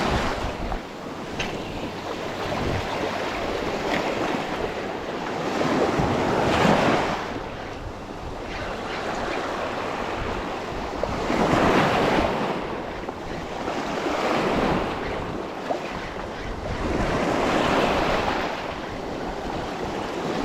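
Ocean waves at high tide surge and break in slow rolling swells about every five to six seconds, with steady wind noise buffeting the microphone from a boat out on the water.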